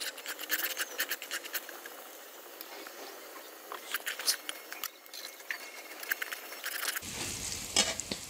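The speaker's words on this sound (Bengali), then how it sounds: "পেঁয়াজটাকে বাদামি কালার করে আমি ভেজে নিচ্ছি।" Onion browning in hot oil with panch phoron and bay leaf, a steady crackling sizzle with scattered pops and scraping stirs throughout, fairly close, with no talking.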